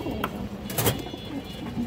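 A large male pigeon of an old bloodline coos in a short, soft burst, with a brief louder call near the middle over a steady low background hum.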